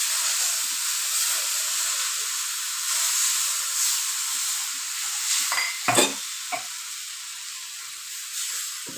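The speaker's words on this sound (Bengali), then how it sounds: "মিল্ক আর বেসনটা ভালোভাবে মিক্স করে নেব।" Milk and gram flour (besan) are stirred together in a hot pan for a sweet, giving a steady bright hiss and sizzle with a few scraping knocks of the spoon midway, no voices.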